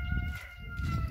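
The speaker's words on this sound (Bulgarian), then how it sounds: "Тия кокошки тук си викат като откачени." Chickens cluck and call noisily nearby in a continuous, agitated chorus, with no talking.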